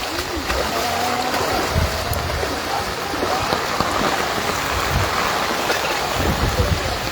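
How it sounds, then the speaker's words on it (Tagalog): Steady heavy typhoon rain in the Philippines hisses over the whole stretch, a dense continuous wash of drops with occasional low rumbles underneath. "walang tigil ang ulan eh"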